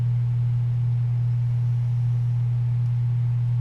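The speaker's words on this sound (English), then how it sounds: "I'm going to turn the fan on. There's a fan off camera. And it'll be a little bit of a humming noise you'll be hearing" An electric fan hums off to the side while toxic fumes are cleared during foam knife making, giving a steady low drone that holds unchanged throughout with no talk.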